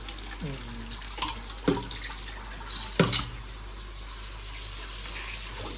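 A tap runs while pieces of quail meat are washed for cooking. The water is a faint, steady rush, broken by a few brief knocks and a short burst of voice near the start.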